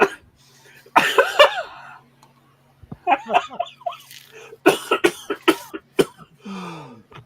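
A person coughing in a casual chat setting: a sharp burst of coughing near the mic, then a string of shorter throaty coughs and hacks, with brief pauses between.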